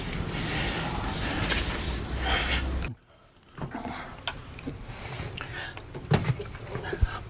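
Car keys jangling as they are fetched, bursts of bright metallic clinks loud and close, broken by a short silent gap before more rattling and handling noise.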